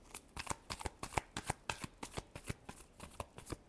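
Tarot cards shuffled close up in a quick, steady run of about sixteen crisp riffling bursts, each a sharp papery flutter, with no talking over them.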